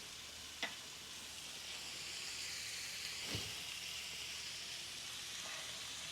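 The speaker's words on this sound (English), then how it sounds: "Listen to that sizzle. Listen to that crackle and that pop." Marinated beef shawarma sizzles steadily in a pan, a constant soft hiss with a few faint pops and crackles, close but quiet.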